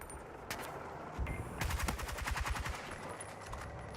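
Rapid gunfire in a video game shooter, including sniper fire: single sharp cracks, then a dense burst of automatic shots, loud and close.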